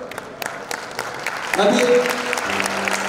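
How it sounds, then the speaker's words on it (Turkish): An audience at an outdoor concert applauds a folk dance troupe, steady clapping that swells slightly midway, while someone speaks over it on a microphone. "Folklor ekibine düşsün ya alkış."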